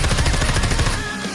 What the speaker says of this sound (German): Schüsse auf mich